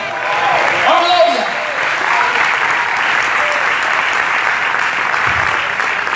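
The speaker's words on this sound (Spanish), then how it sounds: "Dele palmas al Señor esta noche." A congregation at a Dallas, Texas church service applauds in a loud, sustained wash of clapping, with a voice heard over it near the start.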